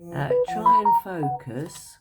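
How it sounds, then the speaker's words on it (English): A mobile phone rings with a melodic ringtone, bright stepped tones sounding close by under continuous speech throughout. "Oh, that was my phone"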